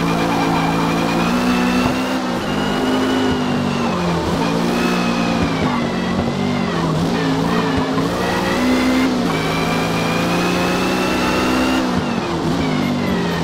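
A 1964 Brabham BT8 race car in Forza Motorsport roars continuously at high revs, engine pitch rising and dropping through gear changes, with tyre squeal mixed in, loud and close throughout.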